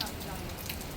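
Rain falls steadily on surfaces in Kandivali, a soft, even patter of drops close by in a brief stretch.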